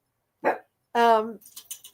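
Dogs bark at home, one short bark followed by a longer, louder bark-whine, fairly close, with brief quieter sounds after.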